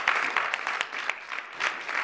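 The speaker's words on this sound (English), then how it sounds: "So give yourselves a round of applause for that." A chapter meeting audience gives brief, brisk applause, a short burst of many hands clapping at close range that fades after about two seconds.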